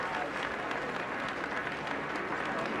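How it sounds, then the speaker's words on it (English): Warm crowd applause outside the Treasury as Gordon Brown leaves as Chancellor of the Exchequer, a steady mid-level patter of many hands clapping without pause, with no one speaking. "Very warm applause for Gordon Brown as he leaves the Treasury as Chancellor of the Exchequer for the last time."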